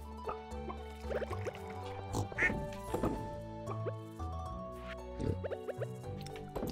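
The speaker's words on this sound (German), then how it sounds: "Dann zweimal Ente." Ducks quacking repeatedly in the farming video game Stardew Valley, bright in-game honks scattered over a steady layer of background game music.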